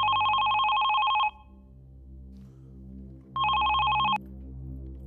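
A telephone rings loudly in a police office, two bursts of trilling electronic bells separated by a pause of quiet room tone.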